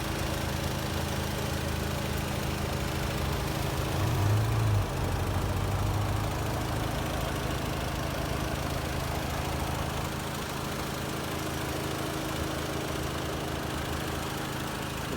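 An Audi S3 with a 300-horsepower 2.0 TFSI engine idles steadily at close range, a constant low rumbling drone that holds even for the whole stretch.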